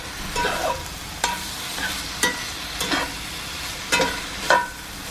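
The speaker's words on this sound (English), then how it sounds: "get to cooking the ground beef while this is cooking still. And then, like I said, I'm cooking it in my cast iron" Ground beef cooks in a cast iron skillet, a steady low sizzle broken by several sharp scraping stirs of a utensil against the pan, close and moderately loud with no talking.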